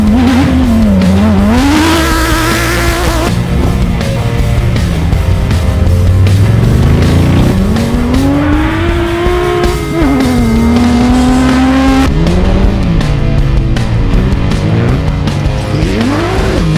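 Race cars at a Bencubbin 360 motorsport event roar past one after another, engines loud and revving with rising and falling pitch, tyres squealing through the field, the sound continuous and close.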